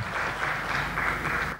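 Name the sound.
audience applause welcoming panel speakers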